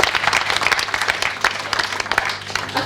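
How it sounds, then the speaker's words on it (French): An audience at a diocesan training closing ceremony applauds: brisk, close, fairly loud clapping from a modest crowd, with individual claps standing out in an irregular patter that holds steady throughout. "Des applaudissements pour Abbé Osario"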